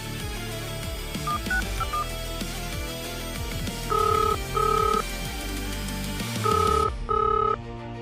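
A phone rings and goes unanswered, its electronic two-tone ringback pulses repeating in pairs over a busy, noisy background with no one picking up.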